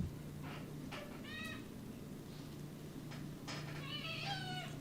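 A hungry house cat meows twice in rising, drawn-out calls, close by over a steady low hum with no talking.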